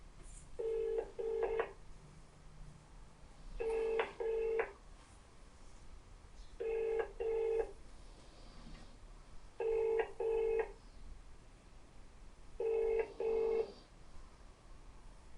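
A telephone ringback tone on an outgoing call repeats five times as paired double pulses with regular gaps, clear and steady with no talking.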